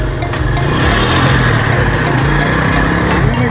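Motorcycle engine droning steadily and loudly throughout a ride across the Ravi riverbed toward the Baba Bootay Shah shrine, with wind rush and no talk.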